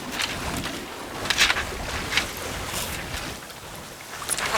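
Steady wind rushes past while a sailboat sails on a beam reach in a moderate breeze, with broadband whooshing, gentle water wash and occasional louder gusts, and no talking.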